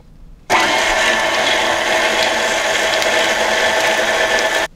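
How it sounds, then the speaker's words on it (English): An electric mixer beats sugar into cheesecake batter, a loud steady whirring motor that starts abruptly after a brief pause and runs evenly, close up, with no talk. "Now we're going to add the sugar in a stream, and again, you don't want to beat more than 30 seconds"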